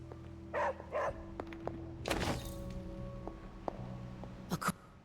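A puppy barks in Marvel's Midnight Suns, two short clear woofs near the start and a final sharp yip near the end, set against a steady game soundtrack and a thud.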